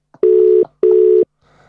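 A telephone line gives two long, even electronic tones separated by a short gap while a call is placed to a phone, clear and close, followed by faint line noise.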